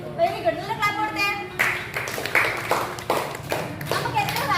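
A group of children in a rabies awareness class at a library claps briefly in scattered bursts, mixed with a presenter's voice and children talking.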